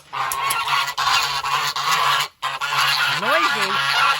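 Goose honks loudly and repeatedly in a backyard poultry yard, nasal calls running steadily through the clip with a brief pause midway, near the microphone.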